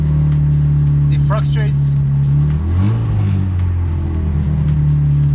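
A car engine with a failing alternator, battery and brake warning lights on, revs up near and steady, its rising and falling drone running continuously under a person talking.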